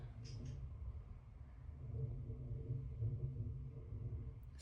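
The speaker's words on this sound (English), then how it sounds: "Seems quite apt that I'm listening to the storm." Storm rumbling outside, heard from indoors as a steady, low, continuous roar that swells slightly midway and holds at a moderate, distant level throughout.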